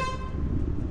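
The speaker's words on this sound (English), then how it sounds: "Air horn, easy S tier." The air horn item from the video game Lethal Company gives one sustained, brassy honk lasting about a second, loud and alone.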